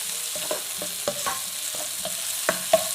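Vegetable manchurian balls sautéing in a pan over low heat, a continuous sizzle broken by regular scraping strokes of a spatula, close and fairly even in rhythm.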